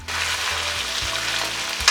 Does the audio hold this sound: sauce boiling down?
yes